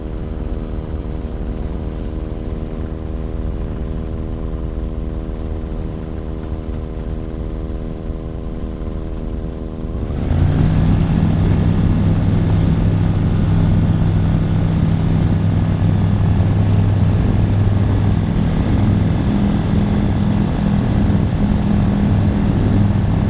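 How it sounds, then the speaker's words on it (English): A microlight aircraft engine near Carina, Sweden, steady and droning through its harmonics, then surging louder at about ten seconds into a strong, constant roar as it climbs away from runway 03 on takeoff. "Just taken off from Carina in Sweden."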